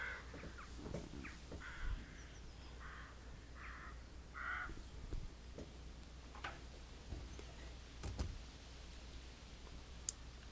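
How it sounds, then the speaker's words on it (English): Crows caw in the video game Second Life, several short calls scattered over a faint ambient background at moderate distance, with a few clicks and no talking. "You can actually see the crows sitting around and flying around."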